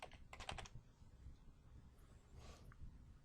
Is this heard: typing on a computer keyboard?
yes